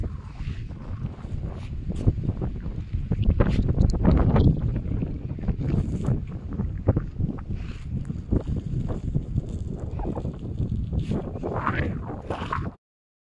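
Strong gusty wind on a beach buffets the microphone in loud, rumbling bursts, with faint rustling and a distant outdoor ambience underneath.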